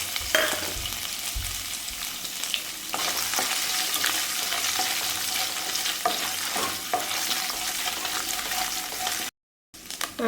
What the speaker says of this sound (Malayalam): വെളിച്ചെണ്ണ ചൂടായിട്ടുണ്ട് ഞാൻ അതിലേക്ക് നമ്മുടെ തേങ്ങാക്കൊത്ത് ചേർത്ത് കൊടുക്കുകയാണ്